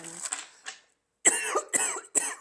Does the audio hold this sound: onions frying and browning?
no